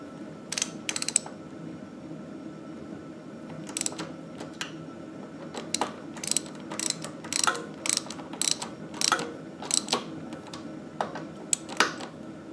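Ratchet clicking in irregular short bursts while the brake mounting bolts are tightened on a Mongoose Juneau 26-inch fat tire bike, close and fairly quiet over a faint steady background hum.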